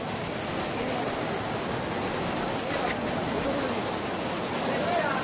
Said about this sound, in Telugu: అక్కడ వాటర్ ఫాల్స్ ఇక్కడ ఉంది